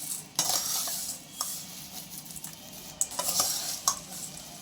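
A spoon stirs and mixes wet bhel in a bowl, giving soft continuous scraping and mushy churning with occasional sharp clinks against the bowl, close and moderately quiet with no talking.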